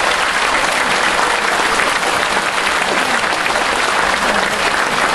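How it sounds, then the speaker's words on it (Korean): Loud, dense applause from a crowd at a Daegu lecture event honoring Professor Kim Dong-gil, a thick wall of clapping that stays steady and full from start to finish. "이 시대의 양심 김동길 박사님께 다시 한번 박수 부탁드리겠습니다"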